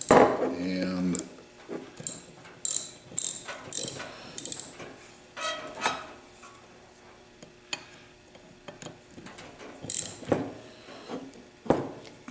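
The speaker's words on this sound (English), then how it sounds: "Table makes a lot of noise." An office table's mechanism rattling and clicking in a workshop, irregular bursts of ratcheting, knocking and creaking with pauses between, fairly close and loud, no talking.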